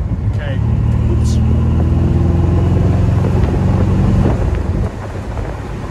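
A 1978 Chevrolet Corvette with a 4-speed gearbox revs at half throttle, a loud, sustained engine drone holding for about four seconds before dropping off, with wind buffeting the microphone.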